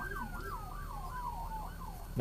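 An emergency vehicle siren passes outside, its wailing tone sweeping up and down repeatedly at a moderate distance, followed by a sudden loud burst at the end.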